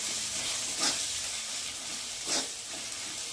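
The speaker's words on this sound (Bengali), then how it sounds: "দিয়ে মশলাটা ভালোভাবে তেলের মধ্যে কষিয়ে নেব।" Spice masala of salt, turmeric, chili and cumin powder cooking in oil, a soft continuous sizzle and hiss with two brief stirring swishes, quiet and close.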